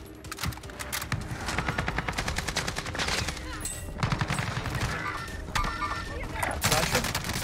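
Rapid automatic AUG rifle fire in Call of Duty Warzone, dense bursts of loud repeating shots running nearly throughout, with other in-game noises mixed in.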